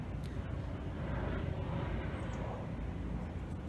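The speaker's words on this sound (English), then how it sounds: "just gonna let that helicopter go by." A helicopter passes overhead outdoors, its broad, steady roar filling the background at an even, moderate level without any talking.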